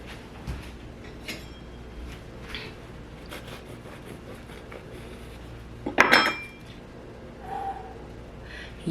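A knife clatters against a plate while slicing through a sweet potato bun, with one sharp scrape-and-clink burst near the end, quieter kitchen clinks around it and steady room noise beneath.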